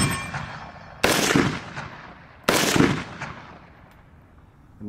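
Two sharp, loud gunshots crack outdoors at a casual shooting session, about a second and a half apart, each trailing off in a long rolling echo, with no talking.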